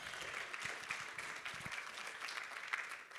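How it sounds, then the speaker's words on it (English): An audience at a talk on primary and behavioral health care integration applauds, a steady, dense patter of many hands clapping at a moderate distance, lasting a few seconds without speech over it. "let's give all yourselves a round of applause for being here in a nor'easter"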